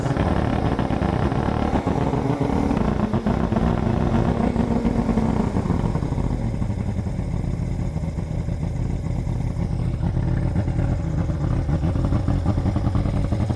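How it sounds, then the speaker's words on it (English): An outboard motor on a bass boat runs steadily during winterizing, a continuous close engine drone with a slight drop in pitch partway through and light clatter. "Now my dad told me to keep this going until the motor dies."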